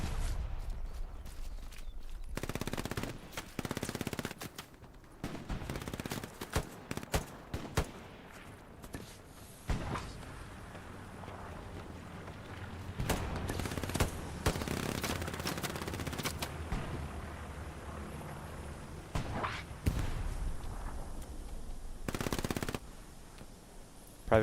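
Machine gun fire in the WWII shooter Hell Let Loose on the Kursk map, rattling bursts near and far across a trench battlefield, mixed with scattered single shots and distant combat noise.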